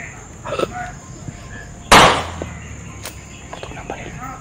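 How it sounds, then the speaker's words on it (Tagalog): A single sharp, loud gunshot cracks out over quiet outdoor background noise, with faint voices around it. "Putok ng baril oh."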